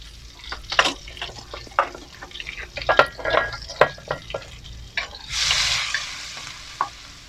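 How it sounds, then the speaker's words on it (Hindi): Garlic and ginger paste frying in hot oil, a close sizzle broken by repeated scraping strokes of a spoon stirring the pan, with a brief louder hiss near the end. "इसको अच्छी तरह ऑयल में फ्राई करेंगे।"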